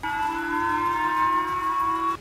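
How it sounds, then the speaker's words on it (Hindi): A civil defense air raid siren sounds in Japan during a North Korean missile overflight: a loud, steady wailing tone held at one pitch for about two seconds with no talking. "वहां के एक इलाके में सायरन की आवाज सुनाई दी"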